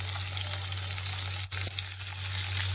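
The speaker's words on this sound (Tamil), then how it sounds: "2 வெங்காயம் கட் பண்ணி போட்டுக்கலாம். வதக்கிக்கலாம்." Chopped onions sauté in a pan for pumpkin poriyal, giving a soft, continuous sizzle with a light crackle and a low steady hum underneath, fairly quiet throughout.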